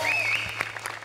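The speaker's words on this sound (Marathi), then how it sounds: "मला उभं राहून टाळ्या वाजवायच्या." A studio audience claps at a Marathi TV comedy show, a short burst of applause mixed with a high whooping voice at the start.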